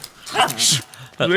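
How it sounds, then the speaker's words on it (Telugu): Dog in a Telugu film scene giving a short yip and whimpering cry amid overlapping voices, close and loud, lasting barely more than a second. "కుక్కెందుకు అక్కడ పట్టుకుంది? కరిచిందా?"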